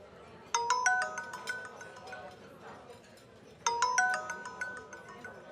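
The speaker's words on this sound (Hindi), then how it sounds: "किसका फोन है? तुम उठा क्यों नहीं रही हो?" A phone ringtone plays a short bright melodic phrase, pauses, then repeats, fairly clear over a quiet background.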